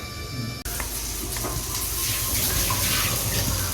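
Fish frying in a pan gives a loud, dense, continuous sizzle heard up close. A short burst of another sound comes first, then the frying runs steadily with no voices.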